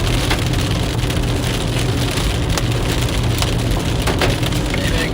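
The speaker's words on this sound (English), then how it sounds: "Into the hail now." Hail pelts a car during a storm chase in Kansas or Nebraska: a dense, loud, continuous clatter of hard pellets on the body and glass, with sharper individual hits standing out from the roar.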